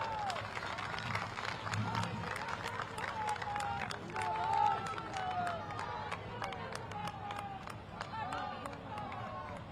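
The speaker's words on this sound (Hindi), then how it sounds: "एक बार सब लोग आप बहनों के लिए ताली बजा दीजिए।" A crowd at a political rally in Rudrapur, Uttarakhand applauds the women gathered there, with steady rhythmic clapping over a murmuring mix of voices and some whistling, sustained throughout.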